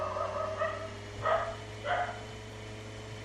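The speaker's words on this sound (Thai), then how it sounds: "หมาก็เห่าจ้าง" A dog barks twice in fairly quick succession, moderately loud and a little distant, over a steady low hum with no talking.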